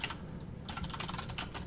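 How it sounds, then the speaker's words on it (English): Keys clack steadily on a computer keyboard as a social media post is typed, a quick run of close, crisp taps with a brief lull before the typing picks up again. "I'm going to go ahead and type up a post now."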